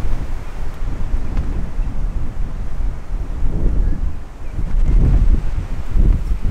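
Strong wind gusts roar through a forest at a bivouac site, a steady low rumbling buffet that swells and surges in waves, loudest near the end, with no voices.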